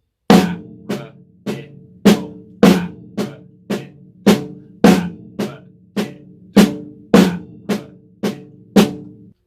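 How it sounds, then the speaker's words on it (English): Snare drum struck in a steady stream of paradiddle strokes, each group opening with a louder accented hit, crisp and close with rattling snares, continuing evenly for about nine seconds with no talking. "We're going to put an accent at the start of each paradiddle."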